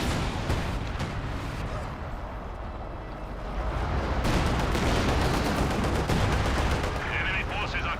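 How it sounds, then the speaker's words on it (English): In the video game Company of Heroes 2, a Panzer Corps army fires away in a rumbling, continuous barrage of gunfire and heavy shots that grows louder midway, while a voice talks over it. "True Panzer Corps is firing away."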